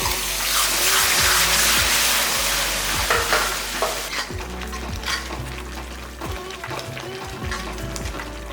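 Ground paste of three tomatoes poured into hot oil for an egg thokku, hitting with a loud hissing sizzle that settles into steady frying with repeated clinks and scrapes of stirring.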